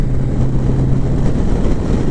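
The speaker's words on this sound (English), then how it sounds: "you can hear the wind dancing in my helmet" Steady low rumbling wind roar buffets inside a motorcycle helmet on a 6th-generation Honda Gold Wing DCT in sport mode, dense and continuous, with a faint engine drone underneath.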